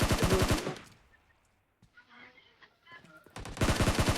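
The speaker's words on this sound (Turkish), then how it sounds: "Bize de sıkıyorlar" PUBG Mobile gunfire on the Livik map: rapid bursts of automatic shots at the start and again at the end, with a quieter stretch of faint game sounds in between.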